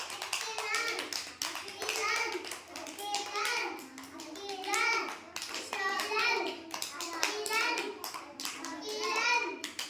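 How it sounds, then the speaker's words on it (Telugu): Children at an anganwadi centre clap their hands during a button sensory-board game, quick rhythmic claps in bursts mixed with lively children's voices calling out throughout. "మీరు క్లాప్స్ కొట్టండి, మీరు క్లాప్స్ కొడుతూ ఉండండి."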